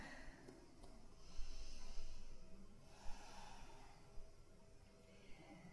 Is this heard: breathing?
yes